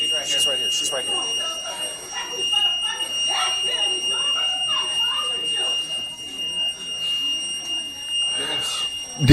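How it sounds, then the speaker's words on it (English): An alarm goes off with a continuous high-pitched electronic tone held steady the whole time, while several people talk and shout excitedly underneath it. "you're gonna hear the alarm going off"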